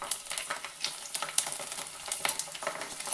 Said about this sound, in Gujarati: હવે તેમાં પાપડને નાખી દઈએ અને પછી પાપડને આ રીતે પ્રેસ કરવાનું